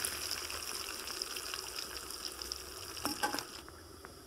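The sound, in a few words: parshe fish frying in oil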